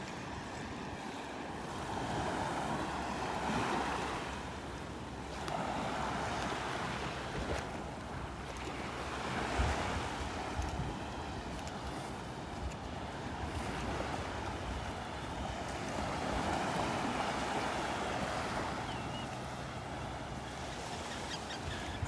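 Ocean surf along a beach at Delnor-Wiggins on a morning with the tide coming in, waves washing in slow swells under steady wind noise, with no talking.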